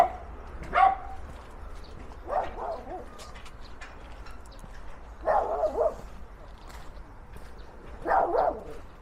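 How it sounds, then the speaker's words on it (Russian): A dog barks several times from behind a yard fence, spaced short bursts at moderate distance, with quiet outdoor ambience between barks. "Злая собака."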